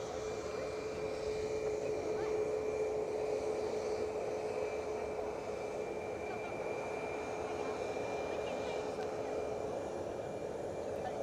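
A WestJet jet airliner arriving at Edinburgh airport, a faint, steady distant engine hum with a thin whine held throughout, no clear build or peak.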